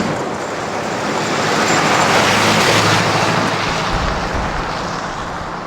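An old Ford truck drives on mountain roads with steady engine and road noise that swells in the middle, then eases off a little.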